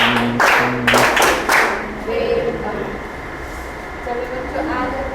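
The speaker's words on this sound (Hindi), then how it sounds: "welcome Tali start" Children in a class do a welcome clap, a few loud rhythmic claps in quick bursts near the start, with voices chanting and talking alongside.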